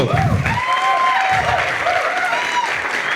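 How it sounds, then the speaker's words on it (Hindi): Loud, sustained audience applause from a large crowd at a seminar, steady throughout, with some whoops and cheers rising above the clapping. "आपकी तालियां रुकनी नहीं चाहिए दोस्तों।"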